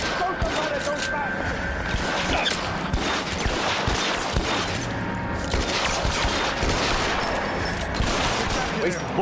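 Dense, continuous gunfire from a shootout in the video game L.A. Noire, a sustained barrage of overlapping shots with no letup, loud and close throughout, while voices talk over the shooting.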